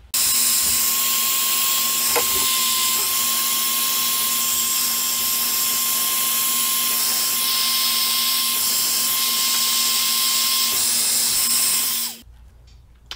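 A heat gun blows without pause for about twelve seconds, a loud, steady airy roar with a constant whine, as heat shrink tubing is shrunk over wiring for LED underhood lights. It cuts off abruptly near the end.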